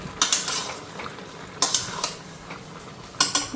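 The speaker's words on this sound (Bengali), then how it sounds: "এখন সয়াবিনটা দিয়ে দেবো।" Soybean chunks tipped into a pot of curry in a home kitchen, heard as three clusters of sharp metallic clinks and scrapes from utensil against pot, with quieter rattles in between and no talking.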